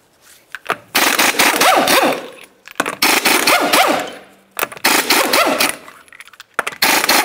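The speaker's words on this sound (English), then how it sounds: "continue on to removing all five of your 19 millimeter lug nuts and then the wheel" An impact wrench spins 19 mm lug nuts off a Ford Flex wheel in three long, loud rattling bursts, each lasting over a second, separated by short pauses and clicks.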